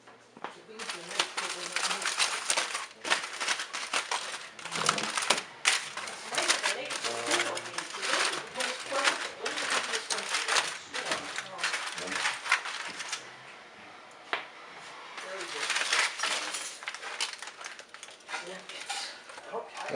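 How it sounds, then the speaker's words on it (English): A knife saws and scrapes through a rested smoked brisket on a cutting board, giving steady close clattering and scraping strokes with voices heard at times. "Let's cut into it and see what we have."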